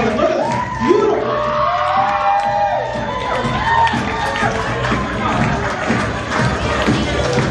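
Loud cheering and whooping from wedding reception guests, a busy crowd roar with shouts rising and falling over about seven seconds, with voices and a microphone announcer mixed into the din.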